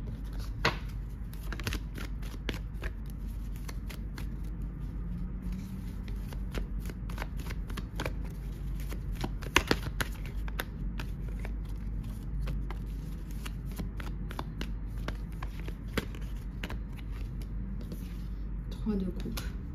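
Tarot cards are shuffled close by in a quiet room, a steady run of soft riffling flicks and taps lasting the whole stretch, with a low background hum and occasional sharper snaps.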